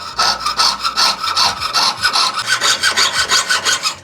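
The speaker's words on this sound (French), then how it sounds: "Ensuite avec le boc-fil, donc je vais venir découper mes cœurs." A jeweler's saw cuts heart shapes from brass sheet in quick, regular rasping strokes, loud and close, about five strokes a second with no talking.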